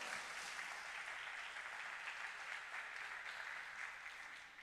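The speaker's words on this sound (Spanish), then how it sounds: "Dale un aplauso al Señor." Sustained applause from a church congregation, steady and full throughout, with no talking over it.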